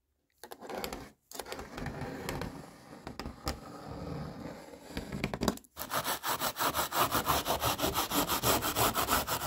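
An abrasive scrub sponge rubs over a panel surface in a van conversion to prepare it for gluing. Scratchy scraping comes in uneven bursts, then turns into steady, rhythmic back-and-forth strokes, close and fairly loud.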